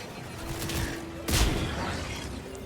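Mass Effect 3 video game battle with a burst of gunfire followed by a sharp, loud explosion midway, then rumbling combat noise fading under a steady background hum.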